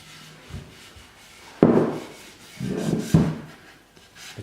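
Hands rubbing oil into a wooden chopping board, working the end grain, giving a few soft, close swishing strokes separated by quiet gaps.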